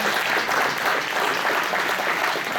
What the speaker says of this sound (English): I guess I'm going to send that applause on to him.